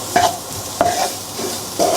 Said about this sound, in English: Make sure all this is just like mixed well and allow the spices to slightly roast on the pan or like cook